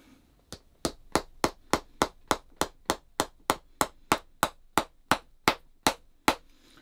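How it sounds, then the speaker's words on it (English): About twenty sharp hammer blows land at a steady, even pace, each crisp strike ringing briefly before the next, as small 12mm tacks are hammered into a shoe sole. "And then I can pop a nail in."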